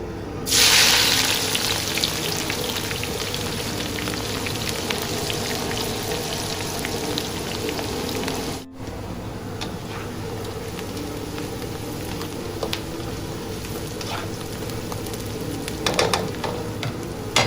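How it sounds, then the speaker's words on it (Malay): Aromatics sautéed together in hot, smoking oil for goreng asam ikan talang masin, a loud, steady, dense sizzle that starts abruptly and continues for the whole stretch, close up, with a brief dip partway through and faint stirring scrapes. "Okay, semua benda ni kita akan tumis serentak"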